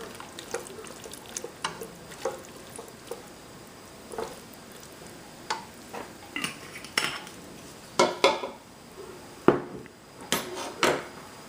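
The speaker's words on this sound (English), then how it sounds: "now I'm gonna put our sweet and sour sauce in there" Sweet and sour sauce goes into a pan with shrimp and noodles, heard as a run of close clinks and scrapes of utensils against cookware with a soft liquid splash, irregular and growing busier toward the end, no talking.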